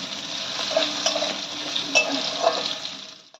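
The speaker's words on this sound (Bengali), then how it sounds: "এবার ক্যাপসিকামটা দিয়েও হালকা করে ভেজে নিতে হবে।" Chopped capsicum frying lightly in a pan while cooking a vegetarian doi paneer: a steady hiss of sizzling with occasional soft stirring scrapes and clinks, close and continuous with no talking.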